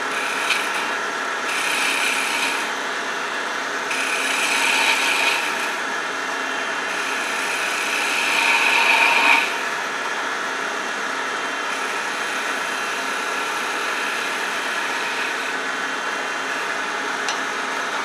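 A wood lathe turns a chess queen piece while a tool shapes the ball section, giving a steady, loud rasping hum with a few brief swells of sharper scraping. No one speaks.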